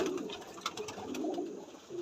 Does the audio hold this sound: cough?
no